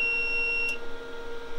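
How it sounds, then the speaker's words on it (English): A power inverter in an off-grid cargo trailer camper gives a single steady, high-pitched startup beep under a second long, then cuts off, leaving a faint hum. "It's supposed to beep for 1 minute"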